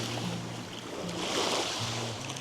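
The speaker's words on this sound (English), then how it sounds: "Start to paddle." Paddles dip into open water from a boat among marble caves, giving a steady wash of water and wind with low engine-like hum underneath, continuous and moderately loud.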